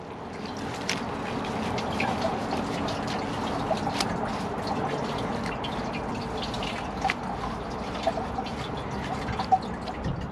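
An American Standard Cadet 3 or Kohler Highline toilet flushes a bunched wad of 40 latex rubber gloves, with a steady close rush of swirling water and gurgling trickles that continue evenly throughout.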